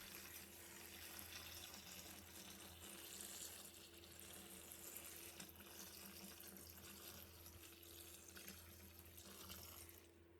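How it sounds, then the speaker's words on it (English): Clean water running steadily into a large basin of corn kernels for washing, a continuous faint splashing pour with a low background hum and no talking. "Then add clean water to the corn."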